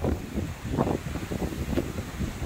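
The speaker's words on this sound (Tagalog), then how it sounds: "Ay grabe, ang lakas ng hangin." Strong wind buffeting the microphone at a foggy mountain camp view deck, a steady rumbling gusty roar with rustling bursts throughout.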